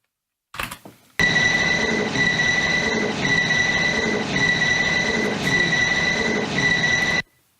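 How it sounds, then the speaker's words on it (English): A train's wheels scratch and squeal against the metal railway in a looped recording, a sustained loud metallic screech with steady high pitched tones running for about six seconds after a short brief noise at the start, then cutting off abruptly. "It seems like a scratch on the railway from the train. They're scratching the metal"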